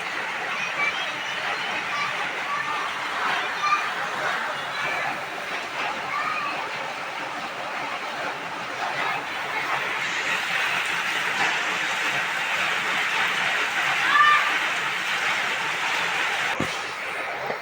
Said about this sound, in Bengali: শুধু দেখো কি পরিমাণের পানি হচ্ছে